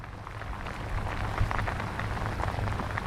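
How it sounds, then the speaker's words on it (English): Heavy rain pours steadily in a thunderstorm during a redfish fishing trip, a dense, constant hiss close by that swells slightly after the first second, with no voices. "It's just raining hard."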